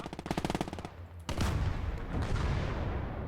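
Sustained machine gun suppressive fire in the WWII game Gates of Hell: Ostfront, a rapid burst of rhythmic shots for about a second, a brief pause, then a loud, dense continuous roar of gunfire and booms.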